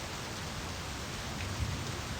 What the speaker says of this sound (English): now that it's raining